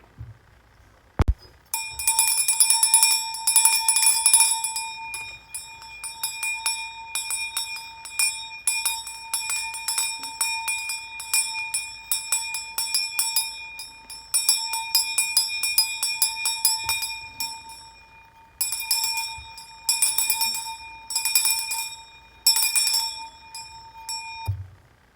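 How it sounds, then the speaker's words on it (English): A hand bell is rung briskly in repeated bursts for a cleansing ritual, bright sustained ringing with pauses between shakes, close and loud with no talking. "let's do a cleanse with my mother's bell"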